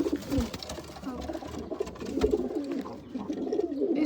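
Pigeons in a breeding aviary coo softly and continuously, with low murmuring calls overlapping against faint background rustling.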